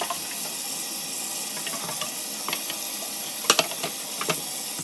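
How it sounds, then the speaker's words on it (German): A Thermomix lid is rinsed under running tap water and scrubbed with a brush, giving a steady close hiss of flowing water with a few brief louder splashes and brush strokes near the end. "Den einfach auch unter fließendem Wasser gerade einmal mit der Bürste."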